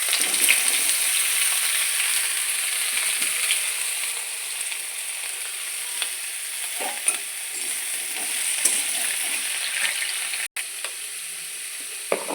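Pumpkin pieces sizzle and fry in a hot pan of oil tempered with mustard seeds, a constant crackling hiss with occasional sharper pops and stirring scrapes, no voices.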